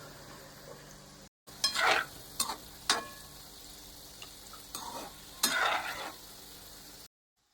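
A spoon stirs sugar syrup in a pan on the stove, scraping the metal in a few quick, separate strokes with pauses between them. The sound is close and moderately loud, and no one speaks.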